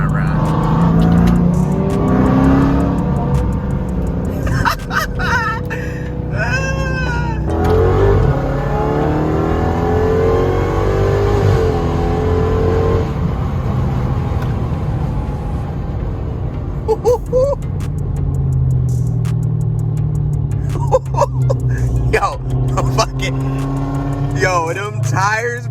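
A 2020 Dodge Charger Widebody Hellcat running E85 accelerates hard during a pull. The loud engine roars throughout with several rising revs, and people talk over it.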